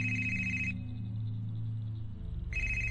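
A telephone rings in the video game HitchHiker: two bright electronic trills, one at the start and another after a short pause, over a low steady hum.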